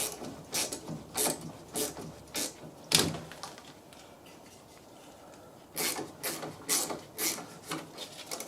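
A ratchet undoes a bolt on the front shock absorber of a Fiat 500, with a 16 mm spanner holding the other side; two bursts of quick, close clicking strokes are separated by a quieter pause.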